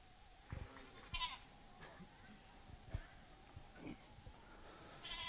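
Goats bleat in short, scattered calls at a junior fair goat show, with faint hoof clatter and soft background voices in a large open hall.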